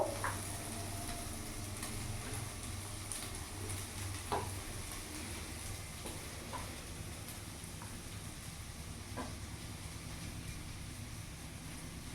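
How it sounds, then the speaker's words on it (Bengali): Potato samosa filling fries in a pan with a low steady sizzle while it is stirred, with occasional soft scraping taps against the pan. "এবার ভালো করে নাড়াচাড়া করে আমি কিছুক্ষণ ভেজে নেব"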